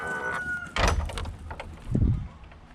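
Chickens on a homestead cluck and crow close by, with a rooster's call and busy, overlapping squawks from the flock and no talking.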